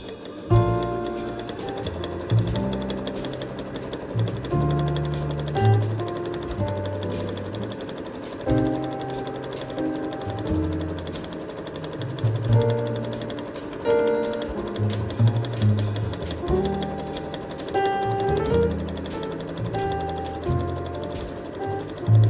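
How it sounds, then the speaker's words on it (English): A sewing machine stitching the sleeves of a Christmas dress, running in repeated bursts of rapid clattering with short pauses between runs, close and clear with no talking. "I'm just gonna chill and do a bit of sewing on my sleeves"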